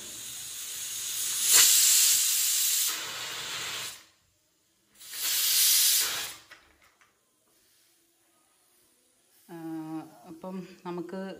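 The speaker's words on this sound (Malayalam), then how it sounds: "കുക്കറിൽ വേവിക്കാൻ വെച്ച ഒരു അഞ്ച് വിസലിട്ടിട്ടുണ്ട്" A home pressure cooker, after cooking mutton soup, vents steam in two loud hissing bursts separated by quiet, then a person speaks near the end.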